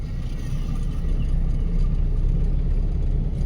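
A car engine pulls under light throttle on a driving lesson in city traffic, a steady low rumble and whir holding at an even level throughout, with road noise.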